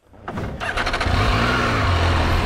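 MV Agusta Enduro Veloce motorcycle engine pulling away, rising from quiet into a steady loud drone with a low throbbing note that climbs slightly as it gets under way, close and continuous with no talking.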